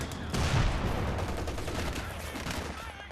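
Heavy sustained gunfire in the World War II strategy game Company of Heroes 2, with rapid machine-gun bursts and overlapping shots forming a loud, continuous barrage.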